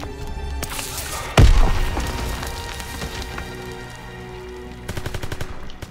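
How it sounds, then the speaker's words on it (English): Incendiary shotgun blasts in the Call of Duty WWII Hill 493 mission, one sharp loud crack followed by rattling bursts of gunfire and a crackling, rain-like burning wash, with a fresh flurry of shots near the end. "What the fuck are they shooting? Incendiary shotguns?"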